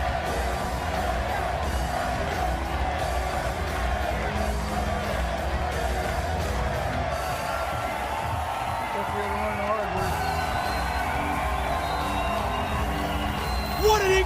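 A jam-packed, standing-room wrestling crowd at the Impact Zone roars and cheers continuously during a King of the Mountain title match, a broad sustained din with scattered whoops and yells, with a voice talking over it.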